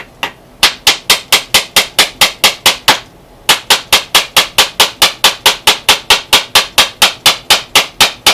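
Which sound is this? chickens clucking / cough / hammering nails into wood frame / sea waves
hammering nails into wood frame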